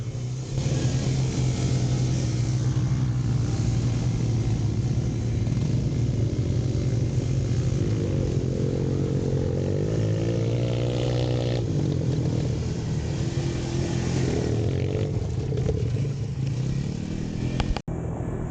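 An ATV revs and roars continuously while spinning donuts and skidding around a small dirt bowl, its engine loud and close with rising and falling pitch throughout.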